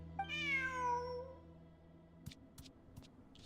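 A cat meows in the video game Genshin Impact, a single drawn-out, rising and falling meow that is loud and close, followed by soft game sounds and faint clicks with no talking.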